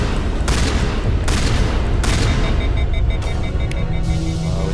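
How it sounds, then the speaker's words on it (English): A turret fires in the video game Mass Effect, a loud, sustained barrage of gunfire with repeated heavy bursts and booms filling the whole stretch. "Oh, it was the turret."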